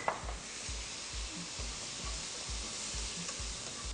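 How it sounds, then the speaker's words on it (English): Continuous sizzling hiss of onion frying in a pan, close and steady, with regular soft scraping strokes from stirring underneath. "as my onion's sizzling away"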